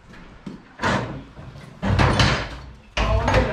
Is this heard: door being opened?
yes